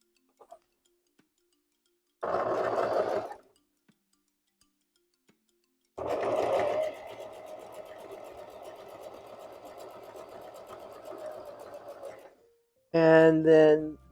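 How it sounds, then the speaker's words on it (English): A sewing machine stitches quilt fabric pieces in two runs, a short burst and then a longer steady whir, loud and close, with a voice speaking at the very end. "I'm just going to sew onto it"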